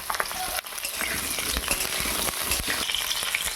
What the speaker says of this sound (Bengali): তো আমার তেল গরম হয়ে গেছে, কিছু সবজি আমি ভেজে নেবো।